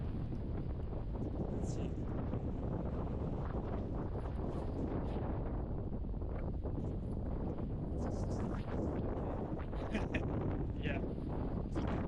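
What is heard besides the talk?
strong wind on a beach in Crete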